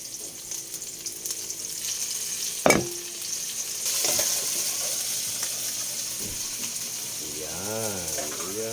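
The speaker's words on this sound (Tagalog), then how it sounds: "Gisahin din natin yung ating munggo." Mung beans and tomato sautéing in a pan give a steady broadband sizzle, punctuated by a sharp clatter of a spatula or utensil partway through and a brief scraping sweep near the end.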